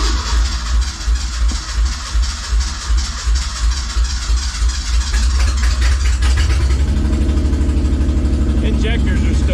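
A 1988 Ford Ranger with gummy injectors and a possible fuel problem, its engine cranking in a loud rhythmic churn that catches and runs unevenly near the end.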